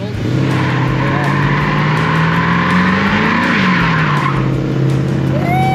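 Mopar muscle car leaving a car show does a burnout on old tires, a loud continuous roaring engine with screeching tire spin that rises in pitch midway and holds steady throughout.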